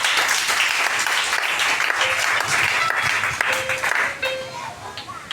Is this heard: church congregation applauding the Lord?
yes